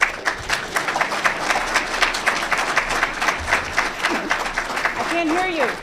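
Audience applause at an award ceremony, a sustained wave of clapping from a crowd in a hall that carries on for several seconds, with a few whoops and cheers rising near the end.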